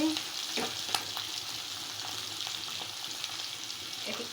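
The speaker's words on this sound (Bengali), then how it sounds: "এলাচ দারচিনি তেজপাতা তারপর রসুন কোয়া দিয়ে আমি তেলে আমি এগুলোকে হালকা একটু ভেজে নিচ্ছি" Cardamom, cinnamon, bay leaf and garlic cloves fry lightly in oil, giving a quiet, even sizzle with a few soft crackles, heard alone without speech.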